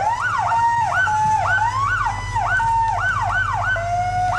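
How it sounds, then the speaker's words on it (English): A fire truck siren in a Christmas parade in Hamlet, North Carolina, cycling loudly in rapid repeated rising and falling wails over a low engine rumble, close and continuous. "When you hear the kind of noise we're hearing right now, you know there's a fire truck coming around"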